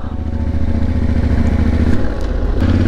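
Motorcycle engine running steadily while riding along a trail, a loud close rumbling drone with slight variations in throttle throughout.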